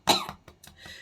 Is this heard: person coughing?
yes